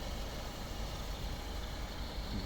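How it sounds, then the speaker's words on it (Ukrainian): A 2008 Mazda 6 with a 2.0 petrol engine idles steadily and quietly, a low, even hum with no voices. "Автомобіль заведений рівно тихо працює"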